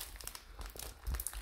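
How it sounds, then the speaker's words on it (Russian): Adhesive tape is peeled off a package with soft, faint crinkling and rustling bursts at close range. "Сейчас скотч отклеим."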